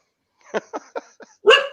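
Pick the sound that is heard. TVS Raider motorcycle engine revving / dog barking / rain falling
dog barking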